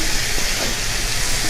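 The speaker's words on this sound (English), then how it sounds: "Chef Victoria will start frying the chicken" Chicken breast frying in hot oil gives a loud, steady, dense sizzle that runs unbroken for a moment with no voices.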